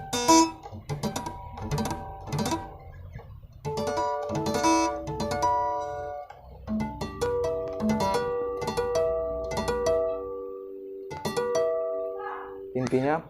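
Bell-like guitar harmonics ring out one after another, some overlapping, among low rustling handling noise, played close in a basic guitar technique lesson.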